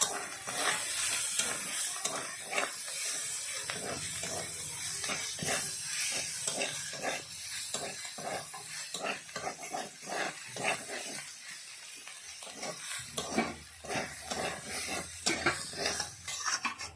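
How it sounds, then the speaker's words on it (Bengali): Shrimp cooking with poppy-seed and mustard paste and chopped tomato, stirred in a pan over a wood-fired stove, giving a steady hiss and sizzle with repeated scraping stirs throughout, loud and close. "এবার দিয়ে দিলাম বাটা মশলাটা, এরপর দিলাম টমেটো কুচিটা, অল্প নেড়ে চেড়ে মশলা দিয়ে তারপরে জলটা ঢেলে দেবো।"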